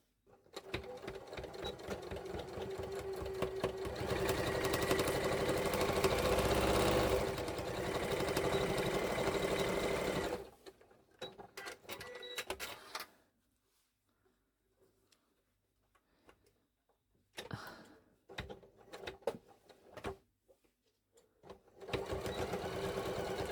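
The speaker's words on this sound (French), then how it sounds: "On va coudre ici." A sewing machine stitches denim from old jeans in a steady, fast whirring run of about ten seconds, then falls quiet with a few short bursts and clicks.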